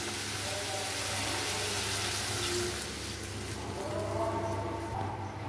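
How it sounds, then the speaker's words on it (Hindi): Water poured into sizzling fried masala while cooking banana kofta gravy, a steady splashing hiss lasting several seconds at close range, with a brief dip midway. "अब मैं इसमें पानी ऐड कर रही हूँ।"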